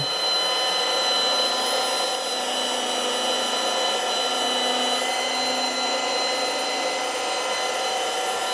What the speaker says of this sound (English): up to full speed. No pressure going onto the polisher at all.